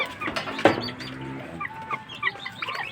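Rhode Island Red chickens clucking and calling close by, several birds overlapping in short, irregular bursts with a few sharper squawks.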